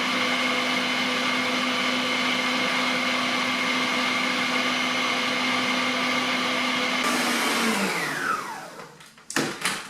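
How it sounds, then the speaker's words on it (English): An electric mixer whips egg whites as hot syrup streams in, for a strawberry tiramisu. A loud, steady motor whine holds for about eight seconds, then winds down and ends in a few clattering knocks. "What we need to do is get our mixer going, and we're going to stream this hot syrup really slowly"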